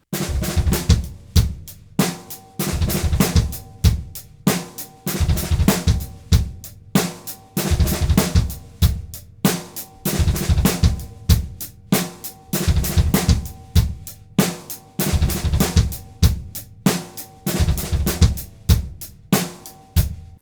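On a drum set, doubles pass between the left hand and the right foot in a repeating groove of loud, close strokes with a strong driving pulse that runs throughout, with no talking.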